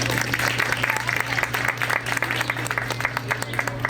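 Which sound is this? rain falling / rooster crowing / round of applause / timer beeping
round of applause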